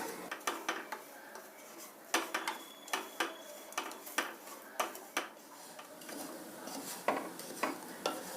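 Semolina (rava) is dry-roasted in a pan while a utensil stirs it, giving repeated rhythmic scrapes and metallic clinks over a soft hiss, close and moderately loud.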